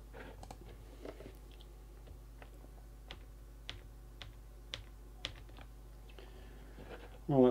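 Sparse, faint computer clicks and light keyboard-like taps in a quiet room over a steady low hum, irregularly spaced over several seconds, ending with a brief louder rustle.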